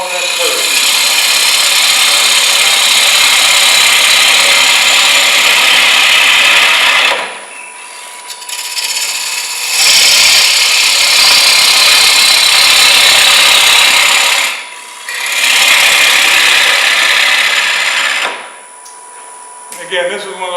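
Wood lathe turning a green wood bowl, a loud continuous rushing scrape of the gouge cutting the spinning wet blank in three long passes separated by brief pauses, with shavings hissing throughout.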